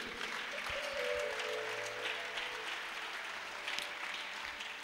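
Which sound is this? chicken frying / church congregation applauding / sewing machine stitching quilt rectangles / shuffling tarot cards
church congregation applauding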